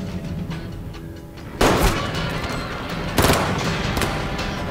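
Gunfire in a scene from the TV thriller series The Terminal List: two sudden, loud bursts of shots, the first at about 1.6 seconds and the second at about 3.2 seconds, over a steady background.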